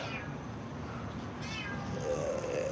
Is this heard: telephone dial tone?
no